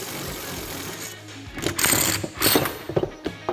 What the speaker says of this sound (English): we're just going to take our impact, just impact it right off